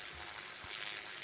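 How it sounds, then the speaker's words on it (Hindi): Steady, dense hiss of rain pouring down in the Indian Bike Driving 3D game, a continuous wash of water noise at a constant level, with a brief low thump partway through. "पानी बरस रहा है"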